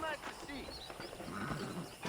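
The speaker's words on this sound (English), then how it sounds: "I picked out a fine horse for you. Oh, ein schwarzes Pferd." A black horse in the video game Red Dead Redemption, with faint snorts and hoof sounds mixed under steady game ambience and background voices, quiet and somewhat distant.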